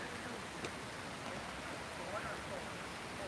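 Steady outdoor rain makes a dense, even hiss with no clear breaks, heard from close by as a faint background wash.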